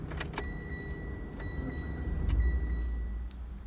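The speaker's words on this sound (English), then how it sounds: "Before starting the engine, make sure that the gear shift is set to park and the handbrake is engaged. Then start the engine." An automatic car is started, with keys jangling and a dashboard chime before the engine catches as a low rumble midway and settles into a quiet idle.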